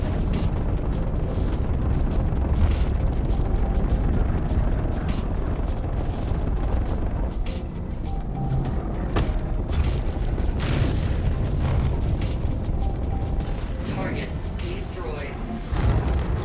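Explosions rumble from weapons fire on an Aegis Hammerhead ship in the Star Citizen game, a continuous heavy roar with repeated booming bursts and crackles, loud throughout, mixed with game engine noise and some speech.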